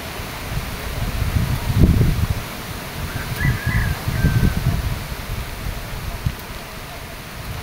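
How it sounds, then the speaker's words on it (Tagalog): Strong typhoon wind rushing through trees and rustling leaves, surging in gusts with low buffeting rumbles against the microphone, a brief faint bird-like chirp in the middle. "Yan mga idol lakas po yung hangin mga idol."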